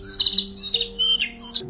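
Cartoon bird squawks in the Talking Larry the Bird mobile game when the bird is hit, a few short bright chirping squawks in quick succession over a steady low background hum.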